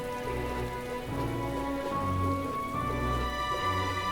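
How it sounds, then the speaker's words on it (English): Steady rain falls throughout a scene in the video game Metaphor: ReFantazio, a continuous wash of patter heard alone under soft game music tones. "This bloody rain is all the way through."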